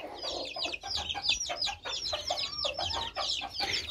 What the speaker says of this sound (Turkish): Kümesimize bu gümüş zibritler hayırlı uğurlu olsun.